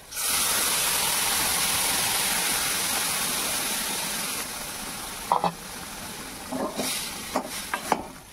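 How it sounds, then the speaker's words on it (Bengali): Dal poured into a hot pan of oil with a coriander and cumin mix sets off a strong, steady hiss of frying that fades after about four seconds, followed by several scattered spoon clinks and stirring knocks, no talk. "এবার দিয়ে দিতেছি ডালটা।"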